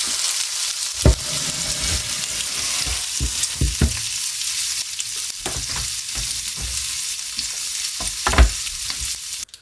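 Bacon fries in an electric skillet, a loud, continuous crackling sizzle with scattered pops and occasional scraping stir sounds. No voices.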